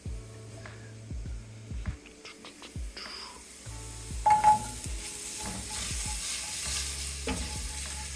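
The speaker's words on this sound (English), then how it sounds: "We're going to saute the garlic until fragrant, and then we're gonna add the ginger." Garlic and ginger sauté in a pan for a Thai curry. A moderate sizzle and hiss runs throughout, broken by scraping stirs and a few light utensil clinks over a low background hum.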